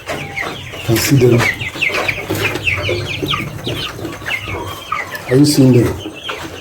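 Broiler chickens cluck repeatedly close by, their calls scattered throughout, while a person talks over them.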